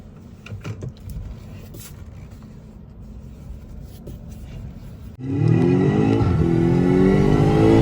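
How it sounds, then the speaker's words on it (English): A Hyundai Ioniq 6 electric car towing a trailer gives a low, steady rumble, then a sudden louder surge of road and drivetrain drone with a rising whine that holds to the end. "Ionic 6 pulling a trailer"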